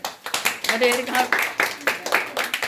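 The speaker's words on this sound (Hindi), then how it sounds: "तालियां भैया के लिए।" Students in a classroom clap in unison for a classmate, a rhythmic series of about a dozen sharp, close claps with a teacher's voice speaking over them.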